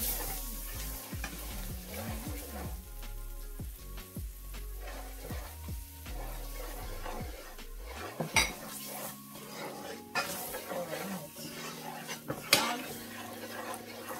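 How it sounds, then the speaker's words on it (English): Curry powder scorches in very hot oil in a pot while a utensil stirs and scrapes, steady sizzling underneath with clanks of metal against pot, and background music playing throughout. "Alright, the oil is pretty hot and I'm going to burn the curry powder."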